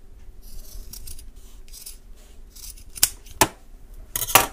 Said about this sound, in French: Je coupe le surplus.